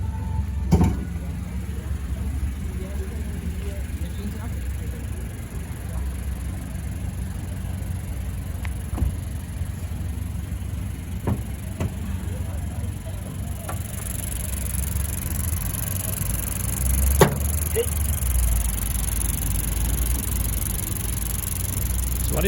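A Toyota Corolla XS 2020 hatchback with a 1.2 four-cylinder engine and upgraded exhaust idles steadily with a low, deep rumble, accompanied by occasional clicks and knocks.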